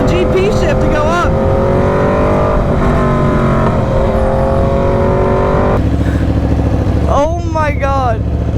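A loud Aprilia RSV4 1100 Factory motorcycle with an SC Project exhaust revs and shifts close by, its engine note climbing through sharp rising sweeps and dropping back, while excited voices talk over it.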